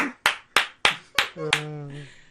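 One person claps five times, sharp, close and evenly spaced, before a voice starts speaking.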